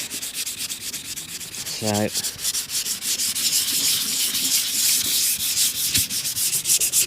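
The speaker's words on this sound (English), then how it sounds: "Let's sand this back down there." Sanding a plastic crack repair on a caravan panel: steady, close rubbing strokes of abrasive on plastic that run on continuously for several seconds, with a brief word spoken near the start.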